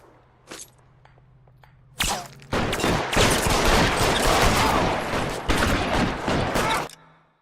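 A heavy, continuous exchange of gunfire in the L.A. Noire video game, with police battling gang members. A single shot is followed by several seconds of loud, dense volleys that stop abruptly.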